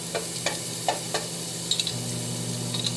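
Garlic sizzling in a hot pan, a steady crackling hiss with a few sharp spoon taps and scrapes scattered throughout.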